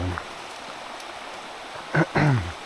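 The Luzège, a trout river in Corrèze, rushes past below a bridge, a steady broadband wash of water, with a voice speaking briefly near the end.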